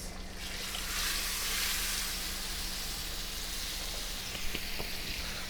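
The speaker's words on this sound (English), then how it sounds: "I'm going to toss them in that oil and butter, and then we're going in with our ribeye steaks." Crushed garlic cloves and ribeye steaks fry in oil and butter, a steady close sizzle throughout with a few faint clinks.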